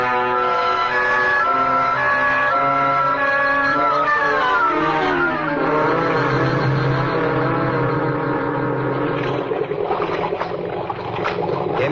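A car engine hums and rises in pitch as it drives along in an old-time radio drama, steady and fairly loud, with no voices over it.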